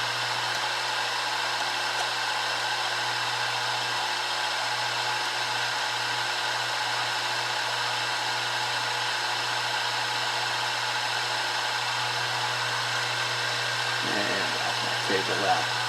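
A cheap $20 tool post grinder motor runs with a steady, even electric whine and hum, holding constant throughout, with a voice heard faintly near the end.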